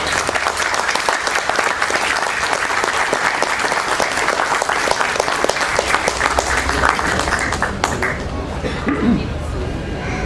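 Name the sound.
audience applause for writer Marcos Yauri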